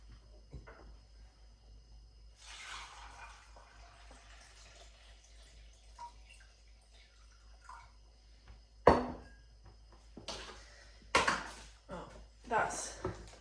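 Water poured into a soft running bottle in a kitchen, quiet trickling broken by sharper clunks, splashes and handling knocks toward the end, with no one talking.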